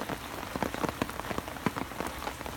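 Steady rain patters onto a pond beside an old wild fishing pond, a dense, even hiss of drops striking water and nearby surfaces, with no voices.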